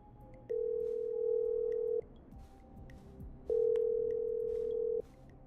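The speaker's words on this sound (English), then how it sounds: "I'm dialing." Telephone ringback in Killer Frequency, with two long steady electronic tones separated by a pause, clear and alone over a faint background.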